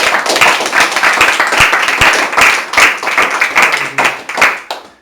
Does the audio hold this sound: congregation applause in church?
yes